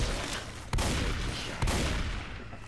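Gunfire in the video game Left 4 Dead 2 comes as dense, loud shots with two sharp heavier reports standing out over a constant roar of action, all close up.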